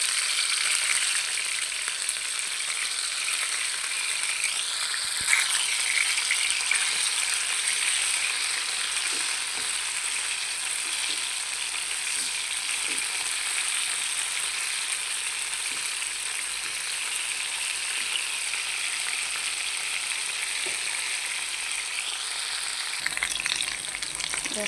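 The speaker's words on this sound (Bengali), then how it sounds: "খুব সুন্দর করে চিকেনটা ভেজে নিয়েছি লাল লাল করে" Chicken fries in a pan with a loud, continuous sizzling hiss that runs unbroken and close, with a few faint clicks of movement underneath.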